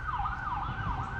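An emergency vehicle siren wails through a small town, its tone sweeping up and down in repeated cycles at moderate distance over a low engine rumble, with no talk over it.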